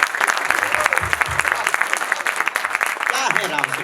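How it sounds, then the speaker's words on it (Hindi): Audience at a Hindi comic poetry gathering (hasya kavi sammelan) breaks into brisk, dense applause, a continuous close clatter of clapping with a voice faintly audible underneath. "एक बार जोरदार तालियां बजाकर मुझे।"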